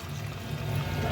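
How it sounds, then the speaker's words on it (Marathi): Hot water poured into chicken curry in a pot, a brief, steady, close pour with a low, rushing liquid sound and no voices. "मी आता गरम पाणी घालते"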